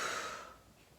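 A single breathy exhale through the mouth during a guided stretching breathing exercise, starting audible and fading over about half a second, heard alone and close with no talk.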